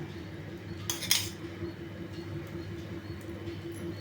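Chapati dough going onto a dosa griddle in a home kitchen: one short bright metallic clatter partway through, then only a quiet steady background hum.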